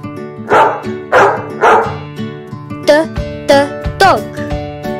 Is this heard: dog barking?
yes